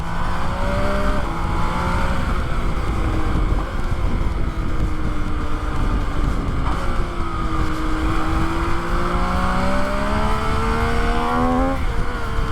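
A 2020 MV Agusta motorcycle at an open-house event revs hard and close, its engine pitch rising and falling in loud sweeping runs, with a final climbing rev.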